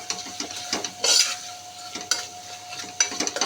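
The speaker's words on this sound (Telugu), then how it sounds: "ఫ్రై అయ్యే వరకు కొద్దిగా సిమ్లో పెట్టి ఫ్రై చేసుకోవాలి" Food frying in a little oil over a low flame for chicken curry, a soft steady sizzle broken by close scraping stirs of a spoon against the pan, with no talk.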